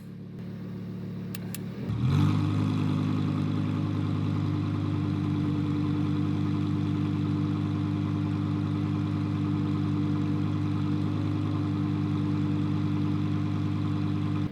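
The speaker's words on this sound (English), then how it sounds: "I'm going to put it in sport mode and you'll be able to hear the difference with the valves open" A sports car engine idles in sport mode with its exhaust valves open, catching after a brief start at about two seconds and then holding a steady, loud, deep rumble alone with no talk.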